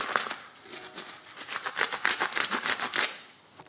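Hardened, set polish applicator pad being squeezed and handled up close, giving a dense run of dry crackling, crinkling and snapping clicks that peaks in the middle and fades out.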